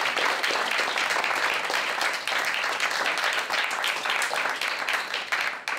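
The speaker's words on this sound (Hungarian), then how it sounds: "Tapsoljuk meg a szerzőt!" Steady, dense applause from an audience at an awards ceremony, continuous and fairly even for several seconds with no talk over it.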